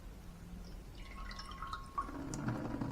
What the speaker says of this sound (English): Just let it drain out.